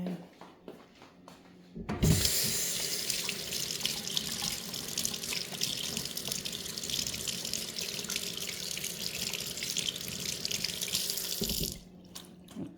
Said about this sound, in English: just let me wash my hands because I held this